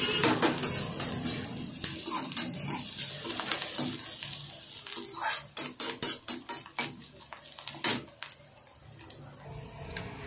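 Onion and capsicum sauté in a kadhai, a soft sizzle running beneath repeated clattering scrapes of a spoon stirring against the metal, the strokes coming in quick irregular bursts close by.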